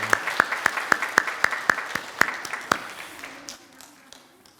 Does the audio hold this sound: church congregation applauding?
yes